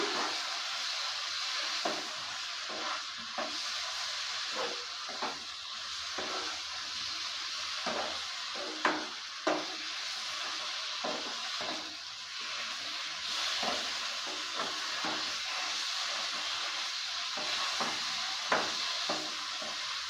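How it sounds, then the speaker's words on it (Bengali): Fried bottle gourd sizzles in a pan of spice masala as it is stirred, with soft continuous frying hiss and repeated scraping, tapping strokes of a spoon against the pan. "সেই লাউটা এর মধ্যে দিয়ে দিচ্ছি লাউটা দেওয়ার পর ভালো করে নেড়ে চেড়ে নিচ্ছি"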